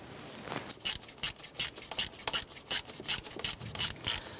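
A hand ratchet snugs down fuel injector bolts on a Chevy S10, giving a run of about ten crisp, evenly spaced clicking rasps close by, with no talk.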